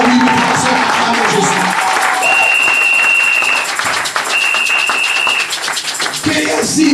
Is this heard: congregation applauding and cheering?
yes